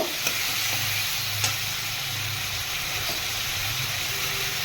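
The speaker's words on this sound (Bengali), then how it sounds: "টমেটো দেওয়ার পরে আবার একটু কষিয়ে নেব" Tomatoes sautéing in a pan for a carrot, potato and paneer curry give a steady loud sizzle and hiss throughout, with a couple of faint utensil scrapes.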